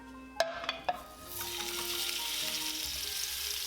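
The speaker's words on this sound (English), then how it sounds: "Over high heat, place in the high smoking point oil and the pork belly" Pork belly dropped into very hot high smoking point oil over high heat for Filipino adobo, a few sharp clinks at first and then a loud, steady sizzle that builds and holds close up, with no voices.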